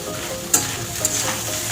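Garlic and dried fish fry in an oil-filled pan for shutki bata, a steady close sizzle with a couple of sharp spatula scrapes and no talk.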